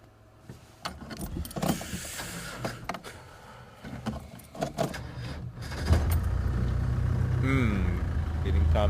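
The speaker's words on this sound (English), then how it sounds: "Getting time to replace the car battery by the sounds of things." A safari vehicle's engine cranks over with a weak battery, sluggish churning attempts after clattering movement and handling noises, then a steady louder rumble as the engine catches and runs.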